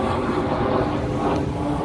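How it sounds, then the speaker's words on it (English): A loud plane passes overhead, a broad, continuous rumbling roar holding steady throughout the brief moment. "That plane is super loud."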